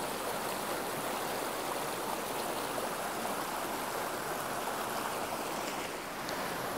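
A waterfall pours steadily, a dense broadband rush of flowing water that fills the scene evenly and continuously from fairly close by, with no voices.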